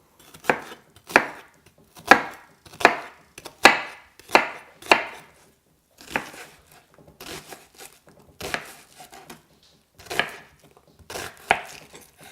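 A knife cuts an onion on a cutting board in a run of sharp, close chopping strikes, about a dozen spaced roughly half a second to a second apart, some trailing with a short scraping rasp, with no voices.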